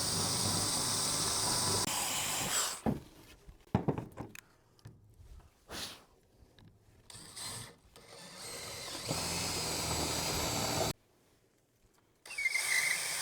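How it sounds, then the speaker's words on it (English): A drill fitted with a Forstner bit bores into a 2x4 in bursts, with loud whirring runs broken by pauses, clicks and handling noises, close and without talk. "So I'm just gonna put the bit in here, put it down here on my hole right here."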